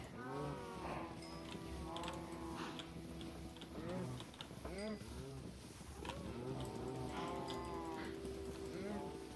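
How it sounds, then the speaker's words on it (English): Cattle in the Minecraft video game moo repeatedly, several overlapping low drawn-out calls in a steady loud stream with faint clicking in the background. "Alright, let's go feed the cows."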